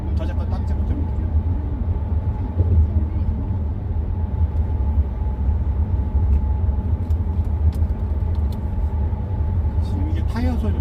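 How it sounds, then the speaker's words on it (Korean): Tire and road noise from a car while driving, a steady low rumble that holds throughout with faint engine hum underneath. "지금 이게 타이어 소리거든요."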